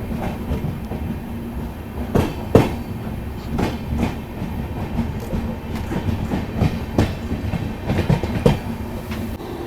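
Freight train rolling along a railway line near an Indian station, a loud continuous rumble with rhythmic clickety-clack wheel knocks repeating throughout, close by and steady.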